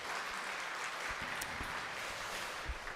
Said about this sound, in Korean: 감사의 박수를 힘있게 드리도록 합니다.